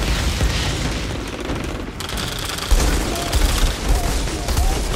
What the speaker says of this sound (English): he is shooting at me